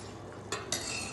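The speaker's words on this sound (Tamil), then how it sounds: "இப்போ ஒரு 2 மினிட்ஸ் நம்ம நல்லா கலக்கி விடணும்" Spices being stirred into chicken curry in a pot, a scraping stir with two sharper utensil scrapes against the metal partway through, close and fairly quiet over a soft sizzle.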